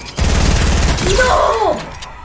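Rapid gunfire from a Fortnite battle royale match on PC: a dense, loud volley of shots crackling for over a second, then fading into a mix of game noise.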